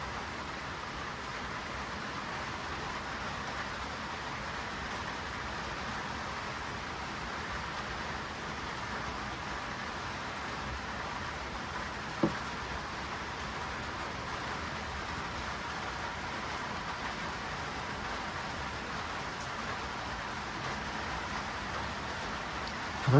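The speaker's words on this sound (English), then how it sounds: "but it's raining." Rain falls steadily outside on a winter day, a soft, even hiss of drops lasting throughout, with a single faint tap partway through and no voices.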